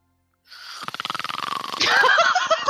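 Snoring during a tabletop role-playing game session, heard as a rapid, rhythmic rattling buzz that builds after a short silence into a louder, rougher sound, likely a voice imitating it.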